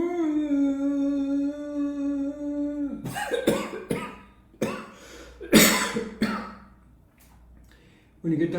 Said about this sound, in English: don't get carried away when you get a cough during Ujjayi Pranayama